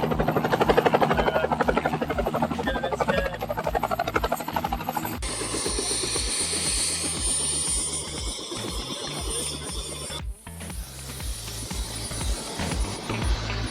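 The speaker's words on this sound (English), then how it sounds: "Helicopter's just arrived, ready for the thrill seeker." A helicopter on a thrill-seeker flight rotor-thumps in a steady, rapid rhythm close by, with a loud whining engine roar over it and a short spoken remark.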